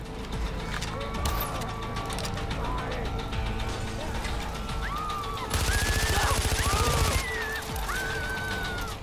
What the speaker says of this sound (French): Je suis en train de lui tirer dessus